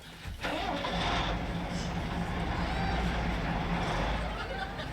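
A bus engine cranks and starts, then runs at a steady idle rumble under voices talking over it.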